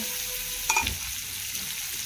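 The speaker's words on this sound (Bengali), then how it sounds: "দিয়ে দিলাম গোলমরিচ, গোলটা একটু ভেজে নিয়ে তাহলে টেস্টটা আসবে" Black peppercorns sizzle in hot oil in a pan, a steady close crackle with one brief scrape or clink of a spoon partway through, no speech.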